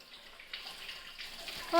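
Water being poured to wash corn cobs splashes and runs steadily, a soft close pouring sound that swells briefly at the end.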